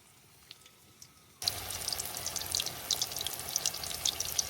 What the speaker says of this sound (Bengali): এইভাবে আমি সবগুলা বড়া ভাজে নিলাম